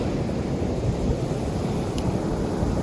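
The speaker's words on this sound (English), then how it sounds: "now we're just going to hang out and wait for a couple of waves" Ocean waves wash onto a sandy beach in San Juan, Puerto Rico, heard as a steady, loud rushing surf mixed with heavy wind buffeting the microphone, with no voices.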